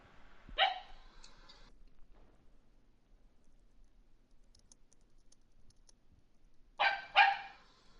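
A dog in Grand Theft Auto 5 Online barks three times, one sharp bark early and a quick pair near the end, clear and close against quiet background with faint clicking.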